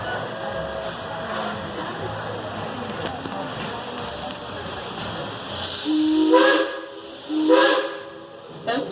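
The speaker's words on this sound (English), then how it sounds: "Those two whistles you just heard tell us that our engineer has received our all clear" A steam train at a depot sounds its whistle twice, two loud, fairly close hoots near the end after a stretch of hissing steam and background rumble, with a voice talking faintly underneath.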